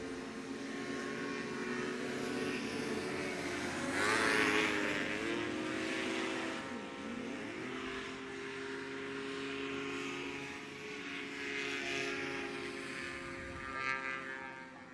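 A racing hovercraft at a hovercraft race meeting in Magnolls roars past up close, its propeller-engine note swelling, then dropping in pitch as it goes by, while other craft whine on in the background.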